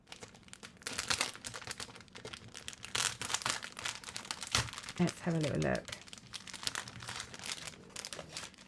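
Plastic packaging crinkles and rustles as it is unwrapped, with bursts of crackling and tearing throughout, while someone talks over it.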